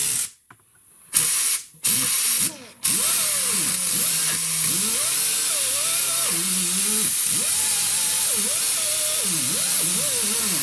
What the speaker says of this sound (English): This is actually wire wheel. I'm gonna clean the most part off of that.